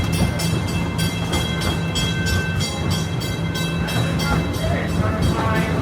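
A passenger train at Walt Disney World's Animal Kingdom rumbles steadily with rhythmic clicking and rattling of carriages, a continuous close roar with a faint tonal hum underneath.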